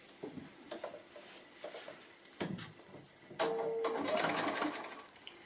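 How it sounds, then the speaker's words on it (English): A sewing machine stitches a foundation-pieced quilt block, starting with a few short, soft runs and then settling into a steadier, louder mechanical whir close by. "I'm just going to go ahead and sew that on"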